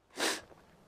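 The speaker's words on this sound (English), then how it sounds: "I'm about to sneeze." A single short, sharp human sneeze bursts out close to the mic, followed by a faint breath.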